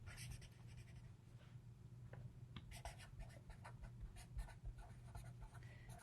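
Pen scratching steadily across paper as notes on compositions of reflections are written out for a geometry lesson, a close run of short strokes and taps with faint room noise beneath.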